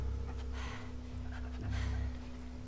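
A dog in the video game The Last of Us Part II pants steadily in quick breathy bursts, fairly faint and close, over a constant low game-ambience hum.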